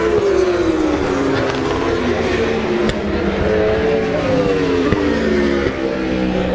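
Racing cars braking hard into a chicane, a loud, continuous engine roar with descending pitch as the cars slow, close and dense throughout, with no voices.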